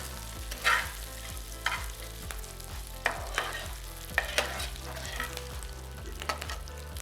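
Half-cooked mutton is fried and stirred in a pan, giving a continuous close sizzle punctuated by periodic scraping strokes of the stirring spoon, with no talking.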